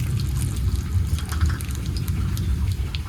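Whole cumin seeds hit hot mustard oil with dry red chillies, giving a dense, continuous close sizzle and crackle throughout.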